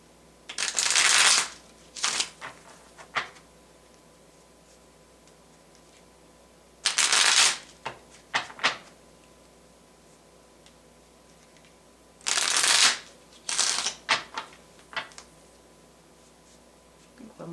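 Tarot cards are shuffled in three separate bursts, each a crisp riffling flutter followed by a few soft taps and clicks, close and clear against a quiet background.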